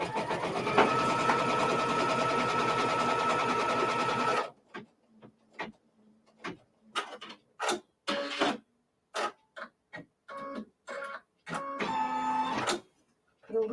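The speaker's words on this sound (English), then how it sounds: "Now we're going to stitch down our first flippy corner." Sewing machine stitching down a fabric corner: a steady mechanical whir for about four seconds, then a run of short stop-start bursts of stitching separated by silences.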